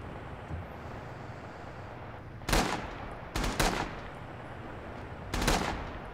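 M1 Garand rifle shots in a WWII Battle of the Bulge scenario from the Heroes of the West mod for Red Orchestra 2: four sharp, loud cracks, one alone, then a quick pair and a final shot after a pause, over low ambient rumble.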